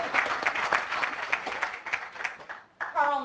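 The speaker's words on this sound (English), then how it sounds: "If you guys want to go ahead and clap after each one to welcome them" An audience at an affordable housing round table claps to welcome a former city councilman onto the panel, a lively burst of applause that dips briefly before a voice begins speaking at the end.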